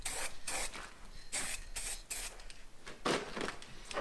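Aerosol spray paint hisses onto a car wheel in a series of bursts of varying length, close and fairly loud, with brief pauses between passes and no talking.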